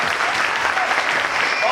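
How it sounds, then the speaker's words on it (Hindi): Loud, dense applause from the audience at a network marketing training program in Meerut, a short burst of many hands clapping together, close and steady. "एक बार सबसे पहले जबरदस्त तालियां होनी चाहिए बुआ जी के लिए"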